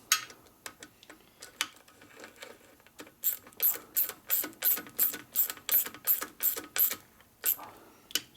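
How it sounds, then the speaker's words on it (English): A hand ratchet clicks as it tightens bolts on a 1972 Harley Sportster Ironhead motor case, scattered clicks at first, then a quick, even run of loud, close ratcheting strokes. "now you go ahead and tighten these all down a little bit."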